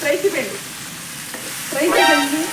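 Okra (bhindi) fries in a pan with a steady sizzle and stirring scrapes, while a voice sings or hums over it at the start and end.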